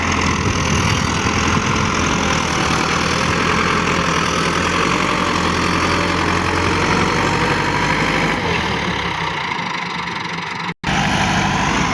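A Massey Ferguson tractor engine runs steadily at idle, a loud, continuous low rumble with a rough knocking texture, briefly cutting out near the end.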